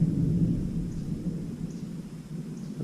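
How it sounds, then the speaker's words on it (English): Thunder rolls in a long, low, continuous rumble during a storm, fairly distant and moderately soft, with no voices over it. "the thunder is rolling."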